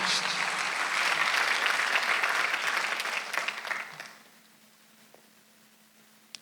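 Church congregation applauding during a Sunday worship service, a dense wash of clapping that holds steady for about four seconds, then tapers off into near silence.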